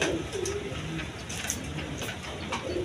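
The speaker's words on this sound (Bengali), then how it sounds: "এখানে এক পেয়ার হাই ফ্লাইং গিরিবাজ কবুতর আছে" A pair of high-flying Giribaz pigeons coo nearby in soft, low, throaty rolls, repeating a few times against a faint murmur of background noise.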